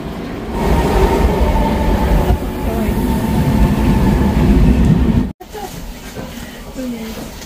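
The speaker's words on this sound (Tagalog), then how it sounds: "Our train to Opava. So huge. So huge train." A large passenger train bound for Opava rumbles steadily with a dense low roar and rattling, then cuts abruptly before quieter station ambience with faint squeals continues.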